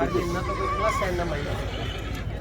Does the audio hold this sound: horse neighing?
yes